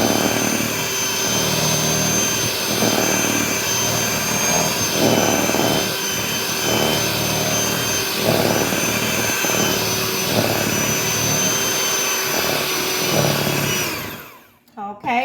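An electric mixer blends pumpkin cake batter in a home kitchen: a loud, continuous whirring drone with a rhythmic pulsing as the beaters move through the bowl, running steadily for about fourteen seconds before switching off.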